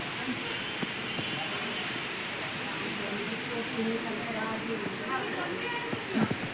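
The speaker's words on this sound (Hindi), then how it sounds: "मौसम इतना ज़्यादा ख़राब हो रहा है, बारिश हो रही है।" Rain falls steadily on surfaces during bad weather, a continuous patter and hiss with occasional louder drops, while someone talks over it.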